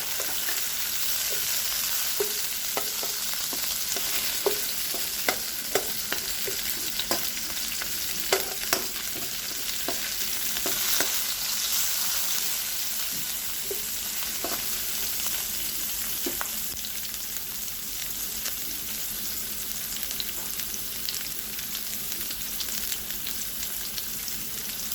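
Onion and tomato fry in a pan for shrimp curry, giving a steady, close sizzle with scattered pops and stirring scrapes throughout, and no talking.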